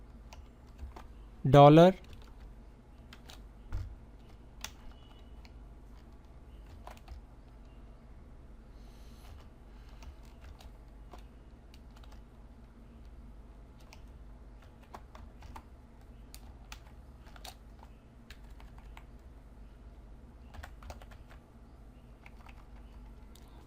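Code typed on a computer keyboard with sparse, faint key clicks scattered over a quiet room hum, plus one brief louder rising sound near the start, and no clear talk.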